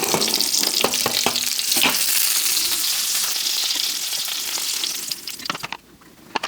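Pork belly crackling and sizzling loudly in a pan, with sharp spits and pops over a dense hiss that eases off near the end.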